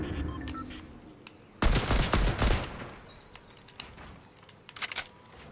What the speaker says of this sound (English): Ooh, I'm getting shot at.